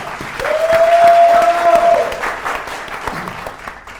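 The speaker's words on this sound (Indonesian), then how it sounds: "beri tepuk tangan dulu" Applause from a studio audience on a quiz show, a burst of clapping that builds and then tapers off, with a sustained tone running through it.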